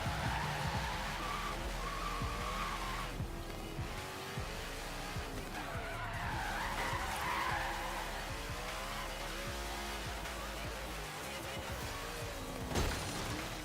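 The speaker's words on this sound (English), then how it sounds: "she is drifting pretty nice for the past couple corners" A truck drifts in the Forza racing game, its engine roaring continuously with sustained tire squeal and skidding through corners, loud and unbroken throughout.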